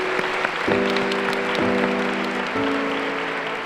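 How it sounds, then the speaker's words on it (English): Audience applause at an award ceremony honoring the team behind the exploration of Pluto: a steady, dense wash of clapping with sustained musical tones playing over it. "I'd like to ask you to give them a round of applause."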